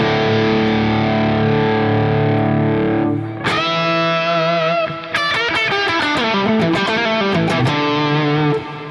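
Electric guitar played through drive and boost effects in a home studio, a sustained distorted tone followed by choppy, bending overdriven phrases, loud and alone with no voices.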